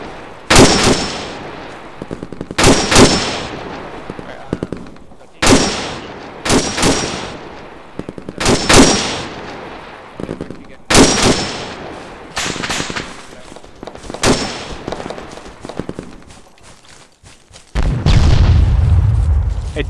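Gunfire in the video game ArmA 3 during a co-op operation, repeated loud sharp shots and short bursts in irregular clusters with booming echoes, ending in a sustained low rumble.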